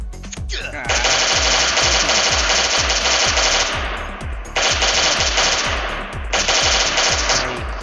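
M16 rifle fire in the survival video game Last Day on Earth: three long, loud automatic bursts of rapid, evenly spaced shots with short gaps between them.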